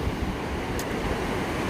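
Ocean surf on a beach gives a steady, loud broadband wash, mixed with wind rumble on the microphone, continuous without distinct breaks and with no speech.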